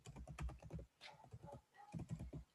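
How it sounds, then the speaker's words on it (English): Fingers type on a computer keyboard nearby in quick bursts of clicky keystrokes, broken by a short pause and then another fast flurry of taps. "I'm going to type it in the comments."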